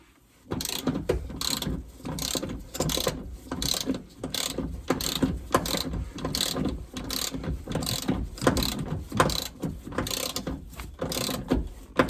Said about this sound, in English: we're going to go ahead and torque these down. 60 foot-pounds.